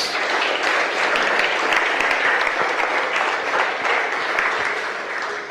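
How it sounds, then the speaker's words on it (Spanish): A church congregation claps in sustained, dense applause during a sermon, loud and even throughout before easing slightly at the end. "dale una ofrenda de palmas"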